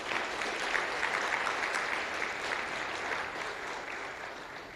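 A conference audience claps in steady, dense applause that holds at an even level and slowly fades toward the end.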